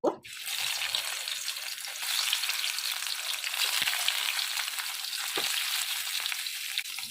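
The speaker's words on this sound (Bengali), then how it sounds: "তেলটা গরম হয়ে গেছে ডিম ভাপাগুলো" Steamed egg pieces frying in hot oil in a pan, a steady loud sizzle that carries through the whole stretch, with a couple of brief soft knocks partway through.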